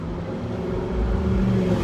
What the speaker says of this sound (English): A car with a loud muffler.